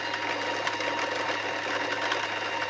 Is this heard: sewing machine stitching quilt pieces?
yes